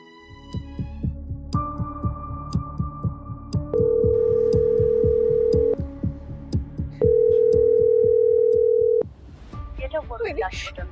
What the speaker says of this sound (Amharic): ስልኩ አይነሳም።